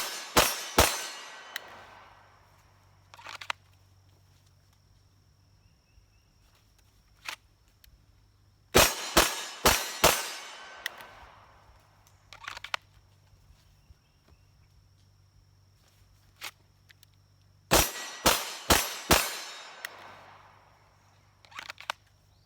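Pistol fired at a shooting range, carried appendix-style, in three quick bursts of four or five sharp, loud shots each, spaced several seconds apart, with a low background rumble and a few isolated clicks between strings.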